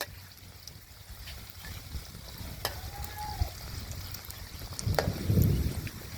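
Samosas sizzle and crackle in hot oil in a home kitchen, a low steady frying hiss with a few utensil clinks and a short louder burst of bubbling near the end, with no one talking.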